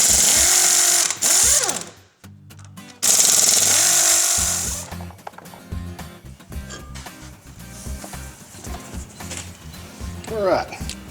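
A power tool, likely an impact wrench, works on a boat trailer wheel in a shop, firing in loud rattling bursts with pauses between, a voice talking in the gaps.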